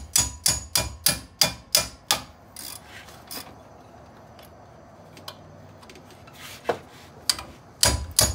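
A hammer strikes brake parts on the front axle of a 2003 Chevy Suburban in a rapid string of sharp metallic blows, followed by quieter clinks and scraping, then a few more heavy hits at the end.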